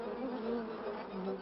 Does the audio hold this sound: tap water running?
no